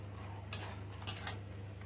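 Stirring flat beans and tomato in a cooking pan, a few light scraping clinks of a spoon against the pan at irregular intervals over a steady low hum, no talking.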